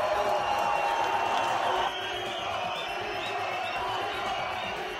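Loud, dense crowd roar from about 1,900 drunk spectators at a Steve-O live show, a continuous wash of cheering and shouting that drops slightly in level partway through but keeps going throughout.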